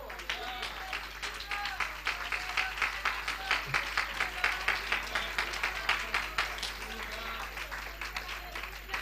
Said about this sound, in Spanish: Puede darle un fuerte aplauso,